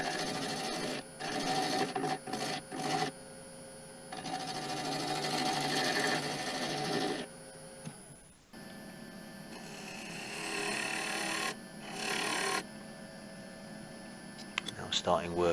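A lathe tool cuts a piece of cherry branch wood while woodturning, giving a loud, rough scraping whir that comes in long bursts with short pauses between them.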